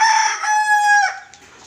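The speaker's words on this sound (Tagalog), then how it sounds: "Rooster." A single bantam rooster crows close by, a loud drawn-out cock-a-doodle-doo that trails off.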